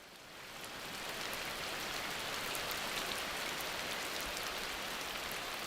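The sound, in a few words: rainy season downpour in the Amazon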